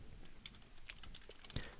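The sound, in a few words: typing on a computer keyboard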